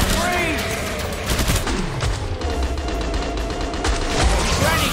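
Rapid gunfire from the shooter game Killing Floor 2, a loud burst of shots and automatic fire over a continuous rumble of combat, with character voices calling out alongside.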